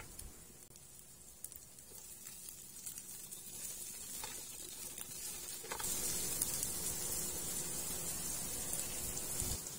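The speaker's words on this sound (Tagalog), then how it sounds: "igisa na natin yung ating bawang at ng sibuyas" Garlic and onion sauté in hot cooking oil in a pan, giving a steady broadband sizzle that swells louder partway through and keeps hissing close up with no talking.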